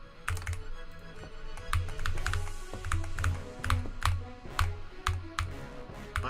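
Rapid, fairly steady typing on a nearby computer keyboard, crisp key clicks in short clustered runs throughout, alone without speech.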